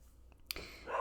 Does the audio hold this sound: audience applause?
no